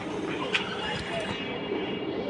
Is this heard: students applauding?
no